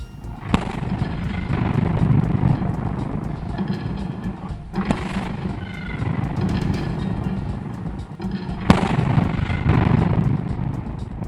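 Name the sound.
artillery salute salvo at a military parade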